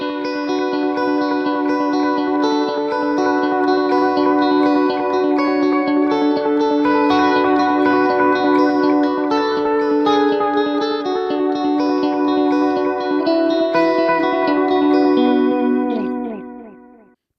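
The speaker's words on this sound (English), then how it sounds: "bringing that in, has a slight pitch variation on it, which is cool." Electric guitar played through a Tone City modulation pedal, sustained chords and notes with a slight wavering pitch and a chorus-like shimmer, loud and close, ringing out and fading at the end.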